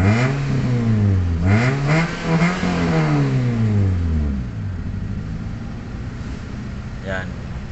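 A Toyota Vios engine with a rough idling and stalling history revs up and down in a few swelling surges, then settles into a steady, elevated idle hum close by.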